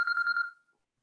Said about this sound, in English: Somebody got a phone ringing?